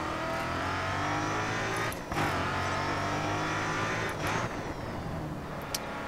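A race car laps a track in the Grid Autosport racing game. The engine drones loudly and continuously, rising and falling through gear changes and revs, with brief dips as the car brakes into corners.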